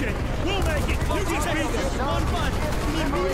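Dense, continuous gunfire in Call of Duty Black Ops during a Vietnam campaign mission, loud and steady throughout with overlapping shots, explosions and battlefield voices talking over it.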